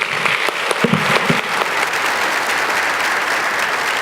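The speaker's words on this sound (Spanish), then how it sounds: "Un fuerte aplauso" Steady, dense applause from a large crowd, loud and continuous throughout with no voices on top.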